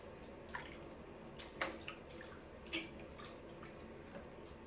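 Loofah sponges soaking in water indoors, with sparse, quiet drips and small splashes scattered over a low, steady background.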